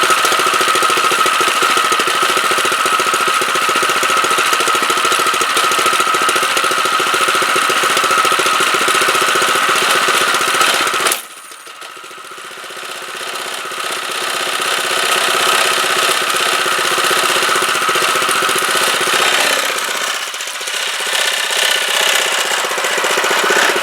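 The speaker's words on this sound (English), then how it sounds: "let's give her a go now, see what this mini bike can do." A mini bike with a 212 engine running close by, a loud, steady rattling putter that cuts out briefly partway through, then picks back up and surges again.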